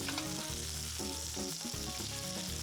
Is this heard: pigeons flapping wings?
no